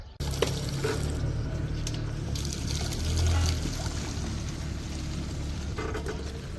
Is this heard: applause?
no